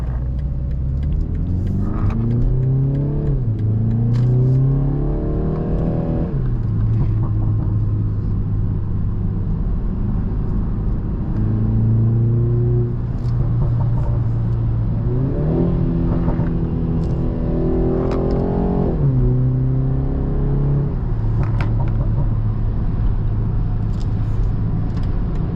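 A 340-horsepower BMW 330i four-cylinder pulling hard on a highway, heard from inside the cabin: a steady droning engine rumble that climbs in pitch through the gears in repeated rising sweeps, loud and continuous throughout.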